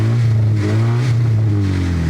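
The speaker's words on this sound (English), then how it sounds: "I guess I can give it some baby revs if you guys want to hear it." A Honda Civic engine, in rough condition, revs briefly and loudly at close range, with a steady low rumble that rises slightly in pitch between gentle throttle blips.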